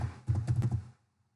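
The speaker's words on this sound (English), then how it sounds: "So like this you have typed some text here." Keys tapped on a computer keyboard while entering text for a PowerPoint slide, a short close run of clicks lasting under a second before falling silent.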